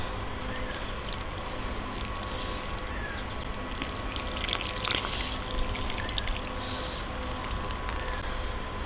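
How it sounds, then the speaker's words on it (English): Potted petunia seedlings being watered, a soft steady trickle of water running continuously at close range over a faint background hum, with no talking. "And we're just going to water that in."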